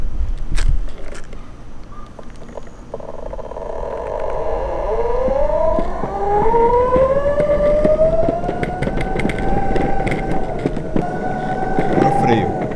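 A homemade electric skateboard accelerates in its weakest mode up a slight incline, its motor whine climbing steadily in pitch and holding over a rough rolling rumble, with a voice talking at the start.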